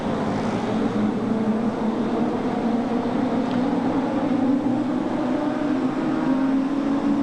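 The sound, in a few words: midget race cars racing on a speedway track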